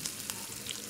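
Spiced boiled eggs frying in oil in a pan for a dhaba-style egg spinach dish, a continuous close sizzle with a few brief crackling pops, and no talk.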